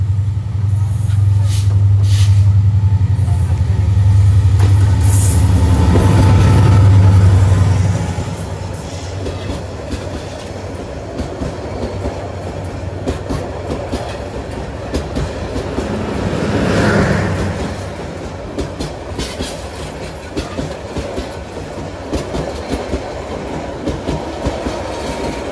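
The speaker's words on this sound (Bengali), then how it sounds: "ফাইনালি আমাদেরকে ক্রস করে চলে গেল হচ্ছে বুড়িমারি এক্সপ্রেস" The Burimari Express passing close at Tista Junction in Bangladesh: a heavy rumble, then rhythmic clickety-clack of wheels over rail joints as the carriages roll by, with squeals and air brake hiss.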